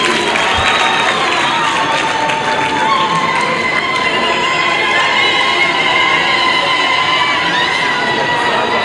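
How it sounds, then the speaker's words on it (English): A loud conference hall crowd cheers and shouts as the Kingdom of Lesotho delegation is honoured at a nursing and midwifery scientific conference, with continuous high-pitched voices and applause blended into a steady roar. "a big round of applause for the Kingdom of"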